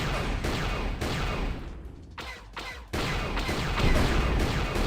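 Turret gunfire from the Knights of the Old Republic video game: a dense, rapid stream of laser-like shots and blasts, loud and continuous, with short pauses where the firing briefly drops before resuming.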